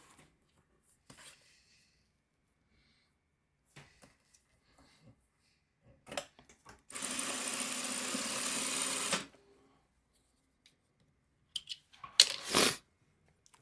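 A home sewing machine stitches a quilt block in one short, steady run of about two seconds in a quiet room, with a few soft handling clicks and rustles before and after.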